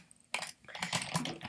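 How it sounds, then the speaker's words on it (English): Quick bursts of keystrokes on a computer keyboard as a web address is typed, close and clear, with a brief pause before a denser run of clicking. "I'm going to type in"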